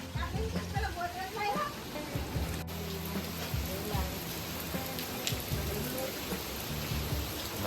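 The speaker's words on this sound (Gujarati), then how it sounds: "વરસાદ તો ગજબ ચાલુ થઈ ગયો" Steady rain patters densely on surfaces all around, constant and close, with a low engine-like hum and faint voices in the background.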